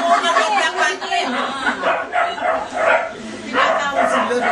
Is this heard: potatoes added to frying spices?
no